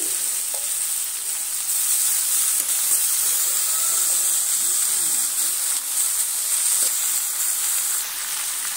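Boiled cabbage going into a pan of frying spices gives a steady, loud sizzle with a bright steamy hiss that holds evenly throughout, with a few faint clinks underneath.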